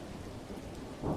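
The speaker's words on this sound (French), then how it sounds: "dehors, il pleuvait à verse et l'orage grondait" Thunderstorm with heavy rain, a steady dense rush of downpour with a low rumble swelling at the end, brief and alone.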